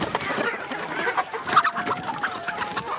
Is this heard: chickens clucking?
yes